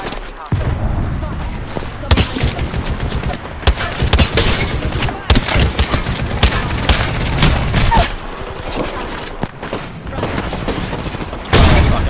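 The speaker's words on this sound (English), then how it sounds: "they fucking shooting me" Repeated gunfire bursts and booming shots from an Apex Legends match, dense and loud throughout with a short lull near the middle, mixed with game effects and a voice speaking underneath.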